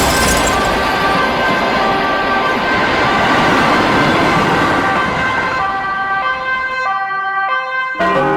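A very fast train roars loudly past in a game scene, its sustained rushing noise dominating before a steady siren-like horn tone takes over near the end, then a sudden cut.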